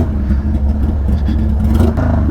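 A Harley-Davidson Sportster motorcycle engine runs loud and close, a thick steady rumble with slight rises in revs, and no pauses across the short stretch.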